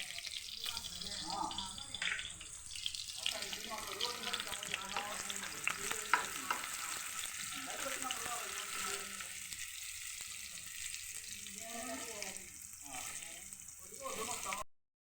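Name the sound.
onions frying in oil for fish curry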